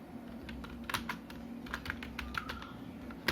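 Typing on a computer keyboard during a Parrot OS 4.8 installation, a short run of separate close key clicks over a steady low hum, with no talking.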